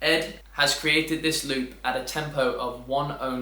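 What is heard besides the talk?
No everyday noises stand out.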